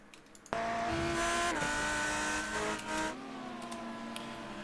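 GT3 race car in the iRacing sim game roars up suddenly and holds a loud high engine whine, pitch dipping briefly under braking before climbing again, with a touch of tire squeal.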